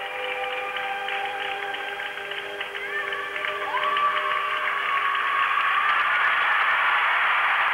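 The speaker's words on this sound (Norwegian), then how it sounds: "Ja, hør på applausen på et mange tusentall i publikum i Skanderia i Sarajevo." Applause from a crowd of many thousands fills a Sarajevo arena after a rhythmic gymnastics routine at the 1989 World Championships. It is steady and broad, with whistles over it, and it swells louder about halfway through.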